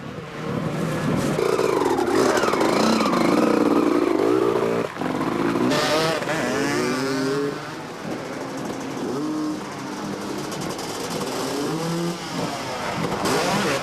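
250cc Honda motocross motorcycles race at the 1994 French Grand Prix, engines revving and whining hard and close, rising and falling as bikes pass and shift, with a steady roar throughout and no talk.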